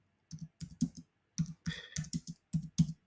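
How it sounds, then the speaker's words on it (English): Someone types on a computer keyboard in quick, uneven bursts of close, crisp key clicks separated by short pauses, with no talking. "I'm just typing something here"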